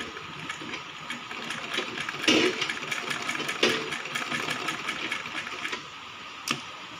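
Sewing machine stitching fabric for a baby frock, a quiet, steady mechanical whir with soft ticking and a few louder bursts, heard close in a home tailoring setting.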